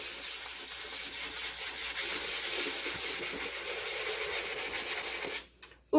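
Resin-coated fluid artwork being sanded by hand, a steady rhythmic scratchy rubbing at close range that continues evenly, then stops abruptly near the end.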